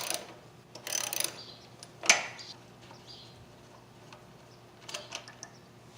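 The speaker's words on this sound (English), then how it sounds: "take out these two little bolts right here. You're going to need a 10mm socket for that" Ratchet driving a 10mm socket to remove two small bolts on a Predator 212 engine's air filter, heard as a few short, close bursts of clicking and rattling separated by quiet pauses.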